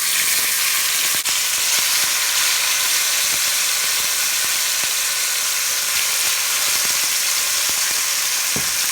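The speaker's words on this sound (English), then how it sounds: "I'm going to let it just sear faithfully for about 2 or 3 minutes" Seasoned meat searing in heated oil in a pan on the stove, a steady loud sizzle and crackle with occasional sharp pops, close and continuous without any talk.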